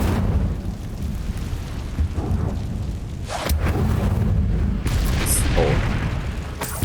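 Incendio fire spell cast in Hogwarts Legacy, a dense roaring whoosh of game flames and rumbling booms that runs steadily through the whole stretch with a few brighter bursts.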